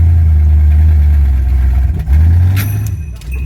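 A Ford F-150 pickup engine drones loud and close while held under throttle during a home frame-straightening job. The rumble dips briefly midway, then swells again before easing off.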